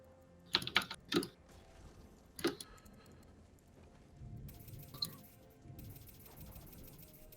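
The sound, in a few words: computer keyboard keys being pressed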